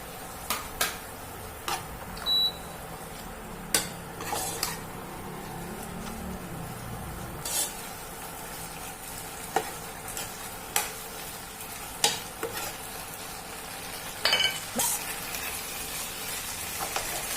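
Wide rice noodles for drunken noodles stir-fried in a wok over raised heat, a steady sizzle broken by repeated scraping and tossing clatters of the spatula, close and moderately loud with no talk.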